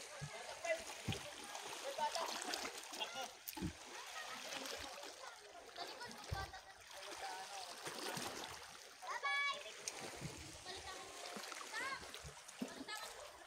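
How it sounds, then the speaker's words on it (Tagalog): Strong sea waves splash and churn nearby in irregular surges near Subong Cave in Bagac, Bataan, with people talking and a voice underneath. "Yung alon, ang lakas yun"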